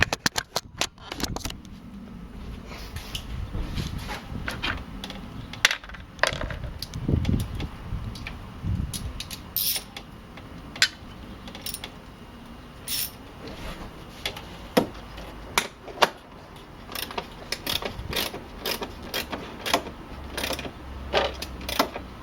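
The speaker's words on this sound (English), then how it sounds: "now we need to tighten the bolt on this side that's holding this bracket." A ratchet wrench tightens a bolt that holds a bracket on a Mercedes-Benz W202 C280: rapid, clicking ratchet strokes come in close, irregular bursts, separated by brief pauses, with occasional clunks of metal handling.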